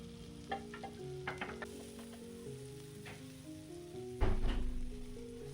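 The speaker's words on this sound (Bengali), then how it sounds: "তারপর যে আমি পেঁয়াজগুলো কুচিয়ে রেখেছি সেই পেঁয়াজগুলোকে এর মধ্যে দিয়ে দিচ্ছি।" Chopped onions sizzle and fry in melted butter in a pan for a creamy restaurant-style chicken dish, a steady close crackle with occasional stirring clatter and a louder burst near the end, no talking.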